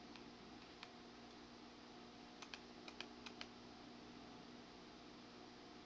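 Computer keyboard keystrokes are picked up faintly by a sensitive microphone, a few isolated taps followed by a quick cluster of clicks over a steady hum, with no one talking.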